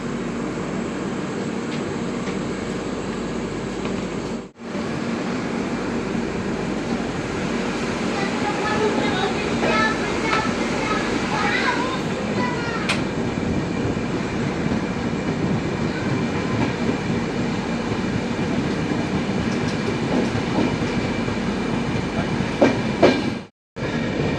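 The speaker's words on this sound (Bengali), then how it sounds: "আমাদের ট্রেন 13149 শিয়ালদা আলিপুরদুয়ার কাঞ্চনকন্যা এক্সপ্রেস এই মুহূর্তে ছেড়ে দিল" Indian Railways 13149 Sealdah–Alipurduar Kanchankanya Express pulling out and running on, a steady loud rolling rumble with wheel clatter heard from on board, brief dropouts near the start and end.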